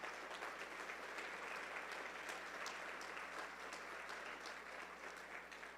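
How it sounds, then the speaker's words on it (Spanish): Congregation applauding loudly and steadily throughout at a church service, a dense, sustained clapping from a large crowd with no pauses. "Dale un fuerte aplauso al Señor Jesús."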